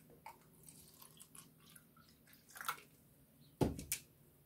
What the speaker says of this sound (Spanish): vamos a ver qué pasa cuando añadimos agua del grifo